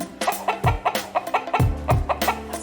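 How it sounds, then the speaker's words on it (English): A hen clucks in a quick, uneven string of short, loud notes close by, with a few deeper throaty sounds mixed in and no talking. "hen,"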